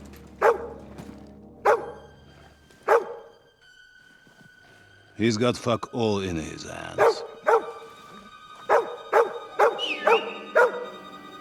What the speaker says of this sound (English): Alright, good dog.